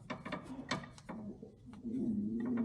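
A clamp being tightened down to compress a four-piston brake caliper piston on a Challenger during a brake install, giving a run of close ratcheting, mechanical clicks with a faint tonal whine near the end.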